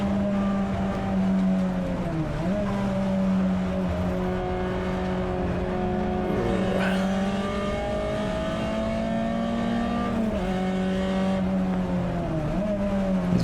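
Onboard a Peugeot 206 GTi 180 racing in a CSCC Tin Tops race at Donington Park, the engine drones loud and steady with rising and falling pitch as it accelerates, lifts and shifts, with faint tyre noise.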